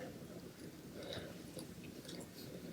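Soft wet chewing and biting on a quail egg in hot red tomato broth, close and continuous, with squishy mouth sounds and no talking.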